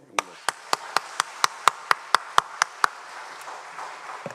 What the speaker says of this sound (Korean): 다시 한번 박수로.